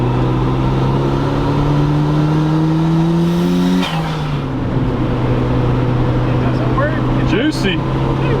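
A boosted Mazda Miata engine revs hard in a full pull, its loud rising tone climbing steadily before dropping and then droning on, heard from close by with faint voices underneath.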